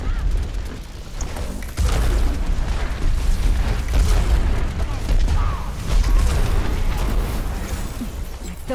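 A turret in the shooter Overwatch is destroyed in a loud blast, followed by a rumbling wash of explosions and mechanical clatter amid dense game noise.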